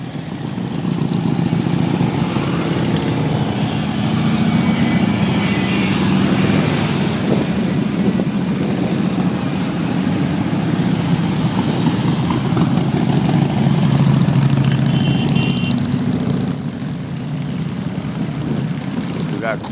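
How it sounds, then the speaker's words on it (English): A large group of motorcycles heads out on a charity ride for veterans at Tomahawk Speedway, producing a steady, dense engine rumble that holds loud and unbroken throughout, with voices faintly mixed in. "Quite a good little ride going on here."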